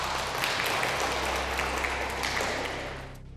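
An audience at a school quiz claps steadily for about three seconds, the applause fading slightly at the end.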